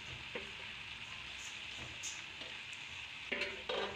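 Country chicken pieces sizzle steadily in hot oil with masala in a pan, a continuous soft frying hiss broken by a few spoon scrapes and stirring clatters, louder near the end.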